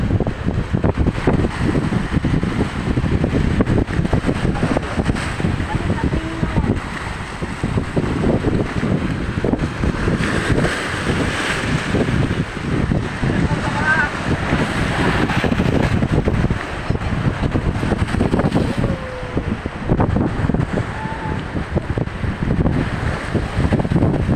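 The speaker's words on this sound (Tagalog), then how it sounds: "Lumalakas na ang mga alon dito." Strong wind and pounding sea surf along a coast in Northern Luzon, Philippines, during a storm, a loud continuous roar with gusting buffets and crashing waves throughout, no talking.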